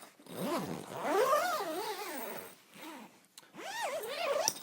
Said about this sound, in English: then you can zip yourself in.